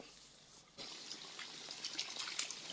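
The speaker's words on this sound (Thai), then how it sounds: "ที่น้องจะได้ยินเสียงน้ำไหลนะครับ" Steady rushing, trickling water close by, beginning abruptly after a quieter moment and continuing as a full, bright splashing flow.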